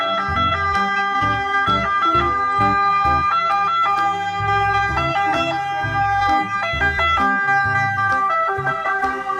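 Toy ambulance siren wailing in a repeating up-and-down electronic pattern, loud and close, alone without talk for the whole stretch.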